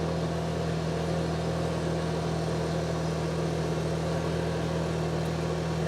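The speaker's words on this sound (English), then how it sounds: "you can get an idea how long I got to drive to go get the mail" A car drives along a long road to fetch the mail, heard from inside as a constant loud rumble and drone with a steady engine tone, unbroken throughout.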